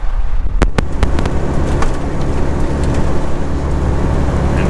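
Wind and rain batter a truck on a wet, stormy day, making a dense, continuous hiss and rumble with a few sharp knocks near the start.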